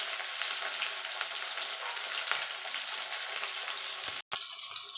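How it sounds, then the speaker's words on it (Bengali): Flat beans and drumstick pieces fry in hot oil in a pan, giving a steady, bright sizzle with small crackles throughout, close and alone, briefly cut off near the end. "আমি সবজি ভেজে নিচ্ছি"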